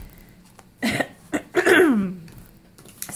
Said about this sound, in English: I am getting over a cold, so I apologize for any sniffles and coughing that you may hear throughout the video